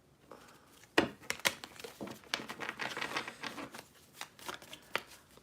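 Tarot cards being shuffled by hand, a quiet run of soft riffling and slapping bursts with a sharper snap near the start, no talking.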